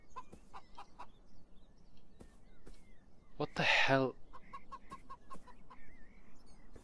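A chicken in the video game Beyond Eyes gives one loud, squawking cluck partway through, heard over quiet game ambience while a person speaks before and after it.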